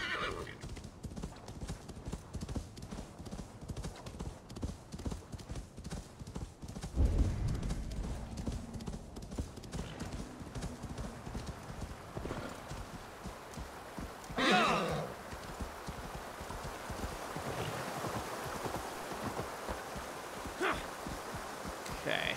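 Horse hooves clip-clop steadily under a game soundtrack in Assassin's Creed Valhalla, with a sharp whinny around the middle and another near the end, moderately close.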